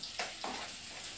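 Shallots and garlic fry in hot oil in a home kitchen, a steady soft sizzle with a couple of brief louder bursts as they are stirred, no talking.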